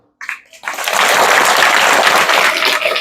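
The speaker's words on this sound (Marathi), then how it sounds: "टाळ्या तुम्ही मनाने वाजवल्या ही चांगली गोष्ट" An audience claps together at a primary school event, the applause starting after a brief murmur and swelling into steady, dense clapping that holds evenly until the end.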